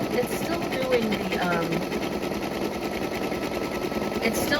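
A Brother NQ3550W embroidery machine stitches a lace heart design with a fast, steady, even mechanical rattle, while a person talks over it throughout.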